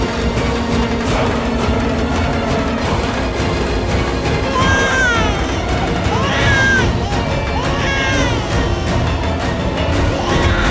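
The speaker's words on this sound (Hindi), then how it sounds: "ये बच्चे की रोने की आवाज कहां से आ रही है?" A baby wails in repeated rising and falling cries, heard under a loud, busy dramatic soundtrack and background noise in a tense household scene.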